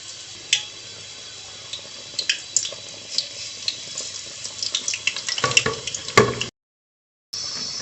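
Bread pakoras drop one by one into hot ghee in a kadai, setting off a crackling, sizzling hiss with scattered pops and clinks that grows busier toward the end before a brief break in sound.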